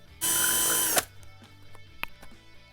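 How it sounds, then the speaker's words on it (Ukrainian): A cordless screwdriver used as a drill bores out plug holes in plastic, giving a loud whine of under a second that cuts off abruptly, followed by faint clicks and handling knocks. "Просто беремо шуруповерт."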